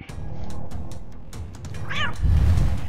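Cat meows and caterwauling come from Catwoman in the video game Injustice: Gods Among Us during a Star Labs mission, several short mewing calls over background game sounds and low rumbling thuds.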